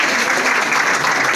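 A round of applause for a guest of honour, with a dense, continuous wash of clapping from a sizable audience, loud and close throughout with no talk over it.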